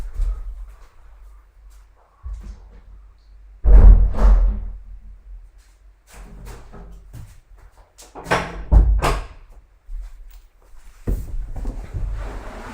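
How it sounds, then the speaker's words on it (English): A room door closing with a few knocks and thuds, along with shuffling movement and scattered bumps at close range, with no talk. "Let me see if I close the door."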